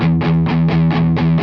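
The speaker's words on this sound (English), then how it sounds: "let me just get a distortion sound." Electric guitar through a distortion effect, a sustained chord picked in about six rhythmic pulses, loud and close with no talking.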